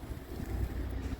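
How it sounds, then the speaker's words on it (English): Hot air blowing from the furnace outlet on a 2022 Forest River Salem Cruise Lite 22VBXL bunkhouse travel trailer, a steady low rushing roar of moving air with no one talking. "This thing's blowing out extremely hot air."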